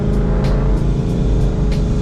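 A C6 ZR1 Corvette fitted with a Paxton supercharger accelerating hard, a loud, close, continuous engine roar with a rising whine and no voices over it.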